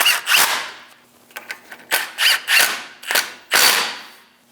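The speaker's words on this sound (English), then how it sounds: "Snug the bolts down." Hand ratchet snugging brake caliper bolts on a Chevrolet Express 2500 van during a front brake job, a series of close, sharp clicking ratchet bursts with short pauses between strokes, loud and alone.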